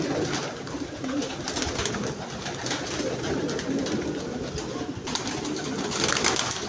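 Racing pigeons coo steadily inside their loft in Manila, Philippines, a soft continuous chorus of low cooing with faint background noise and no talking.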